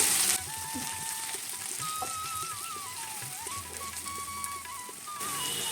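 Garlic cloves and a halved green chili sautéing in a pan for tomato rice premix, a soft steady sizzle with occasional stirring clinks under background music.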